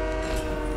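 A video-game train horn sounds as a sustained, loud, rich chord with deep rumbling underneath, heard close and alone for just under a second.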